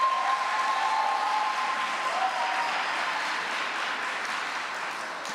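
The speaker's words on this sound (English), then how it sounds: "give them all a round of applause" Audience applause for primary school debaters at an inter-primary debating championship, a steady wash of clapping that holds evenly for several seconds and tapers slightly at the end.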